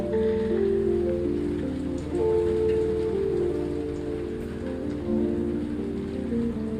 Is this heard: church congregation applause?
no